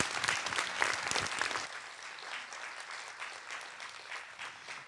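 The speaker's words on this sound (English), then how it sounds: "Can you please join me in giving the panelists a round of applause?" Audience at a campus basic needs convening applauding panelists, a moderate crowd clapping steadily for a few seconds before thinning into scattered, fading claps.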